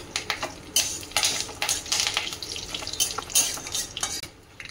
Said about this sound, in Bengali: সরষের তেল দিয়ে দিলাম, আর ফোড়ন দিয়ে দেবো তেজপাতা, শুকনো লঙ্কা, কারি পাতা, গোটা সরষে,